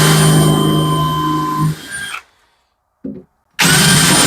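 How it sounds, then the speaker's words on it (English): A countersink bit driven by a drill bores through wood from the back, a loud close whir lasting about two seconds, then silence, a brief burst, and the motor spinning up again. "I can then use my countersink and we can put a countersink through from the back"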